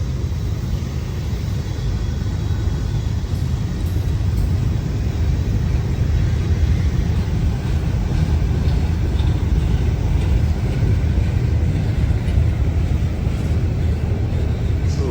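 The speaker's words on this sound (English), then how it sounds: "This is a long train." A long diesel freight train on Kentucky's Old Rat Hole Line rolls past steadily, a loud, continuous low rumble and rail roar holding without a break throughout.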